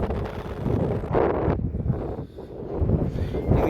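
Wind buffets the microphone in steady gusts on a hilltop rooftop in Ooty, India, a low rumbling roar outdoors with no voices, swelling and easing over a few seconds.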